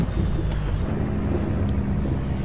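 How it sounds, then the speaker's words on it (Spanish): A SISU C500 truck engine brake in Euro Truck Simulator drones loudly and steadily, a low rumbling roar with a faint rising whine over it. "Freno motor, escuchen."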